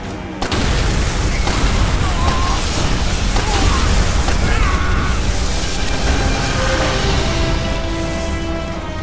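Explosive charges detonate in the World War II shooter Call of Duty: World at War, a loud, dense roar of blasts and rumbling debris that fills the whole stretch, with battle noise layered throughout.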